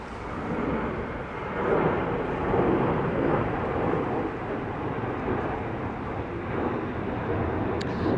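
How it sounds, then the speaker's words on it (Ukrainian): A nearby airplane takes off on Madeira, heard from inside an apartment, its broad, continuous roar holding steady throughout with no talking. "Дивлюся, як ці літаки біля мене тут злітають кожен день. Чую їх прямо в квартирі."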